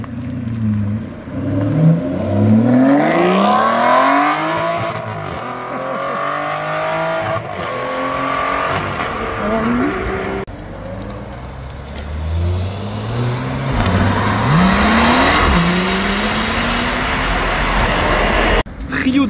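Aston Martin V12 Vantage Roadster at a supercar meet, engine revving hard through several rising and falling gear sweeps, loud and close, with a brief tire squeal and crowd sounds beneath.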